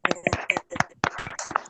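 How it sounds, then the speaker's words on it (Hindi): Scattered hand claps from participants in an online Zoom meeting, uneven and sparse bursts with gaps between them, faint and slightly distorted as if through laptop microphones. "एक बार जोरदार तालियों के साथ इनका अभिनंदन करेंगे"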